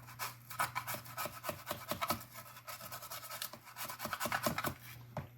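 Brush scrubbing paint off a model locomotive soaking in 91% alcohol, a quick run of short rasping strokes, close and fairly quiet over a steady low hum.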